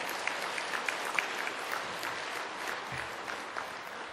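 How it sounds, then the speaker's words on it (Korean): Church congregation applauding during a sermon, a soft, fairly distant patter of clapping that holds steady, with a few sharper claps standing out. "박수 막 나오더라고"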